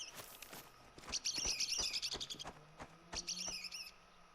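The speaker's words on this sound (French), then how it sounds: "on entend, il y a beaucoup d'oiseaux là" Several birds chirp and trill in short bursts within the outdoor hunting landscape of theHunter: Call of the Wild, with faint footstep-like thuds and quiet ambience between the calls.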